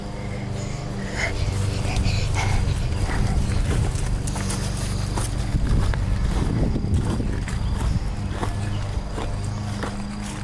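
Horse hooves clip-clop steadily on the ground nearby for several seconds, a loud, continuous rhythm of hoof falls with other footsteps and faint voices around them.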